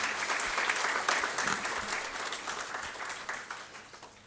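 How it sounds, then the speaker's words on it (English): A crowd applauds continuously, a dense wash of clapping that holds steady and then tapers slightly, with no voices on top. "Let's have a very big round of applause for your parents."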